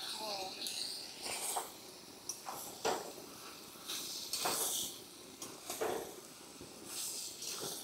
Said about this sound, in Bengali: গ্যাসটা অল্প শব্দ করে।